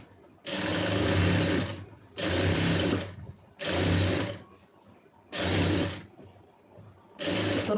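A sewing machine stitches a lining blouse a quarter inch in from the edge, running in five loud, close bursts of about a second and a half each, separated by short pauses.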